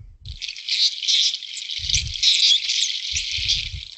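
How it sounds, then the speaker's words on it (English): A dolphin's raspy excitement call, a whistle overlaid with burst-pulse sound, buzzes steadily for about four seconds, with faint low thumps and bumps underneath. "called the whistle squawk, or we called it the excitement vocalization"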